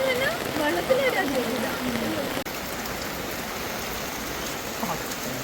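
Steady rain falls outdoors at a scenic spot, a dense even hiss of drops on surfaces that stays constant and fairly close throughout, with faint background sounds mixed in.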